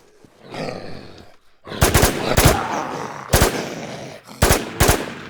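Gunfire in the WarZ video game: several loud, sharp shots in uneven bursts, some doubled, over a rumbling background of in-game noise.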